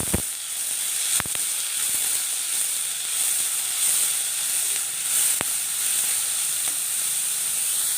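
Chopped onion sautés in hot oil with a loud, continuous sizzling hiss, marked by a few sharp clicks from the pan or spatula.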